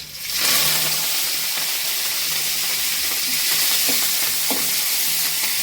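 Curry leaves fry in hot oil in a pan with a steady bright sizzle that starts abruptly and holds, close up, with a few faint stirring clicks and no voices.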